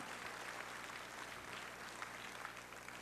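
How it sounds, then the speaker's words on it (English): Audience applause for volunteer helpers at a leadership conference, a steady dense wash of clapping filling the clip without a break. "give them a very big round of applause"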